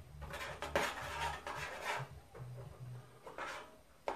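A utensil scrapes and knocks steadily around a pot of melting, lumpy caramel sugar, close and continuous with rhythmic rubbing strokes and no talking.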